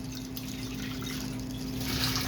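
Filtered salt water, passed through a 1 micron sediment filter from a BRS reactor, is pumped up and runs out of a spigot in a steady, close trickle. A constant pump hum sits underneath throughout.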